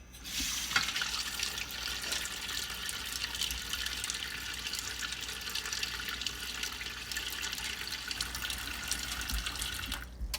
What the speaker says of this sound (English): So now we're just going to pour a little bit of water.